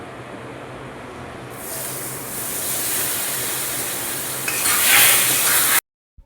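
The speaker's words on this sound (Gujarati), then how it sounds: "હવે સુખડી પોચી બને તેના માટે અહીંયા હું દૂધ ઉમેરી દઈશ" Milk poured into a hot ghee sukhdi mixture sets off a loud, rising sizzling hiss that swells and steams for several seconds, then cuts off abruptly.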